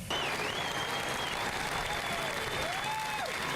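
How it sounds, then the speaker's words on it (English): Sustained applause at a noon prayer vigil for Police Chief David Brown, a dense steady wash of clapping from a crowd with whistle-like tones drifting above it. "a long round of applause for Police Chief David Brown"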